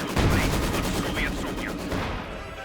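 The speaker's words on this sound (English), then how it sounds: "They're getting caught by 2 Maxims and a veritable storm of bullets." Maxim machine guns rattle in rapid bursts in a Company of Heroes 2 battle, dense overlapping gunfire rolling on loudly throughout before thinning at the end.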